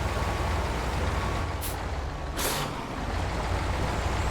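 An Azoz 64131 truck maneuvering in SnowRunner lets out two sharp hissing air-brake bursts over a loud, constant rumbling engine.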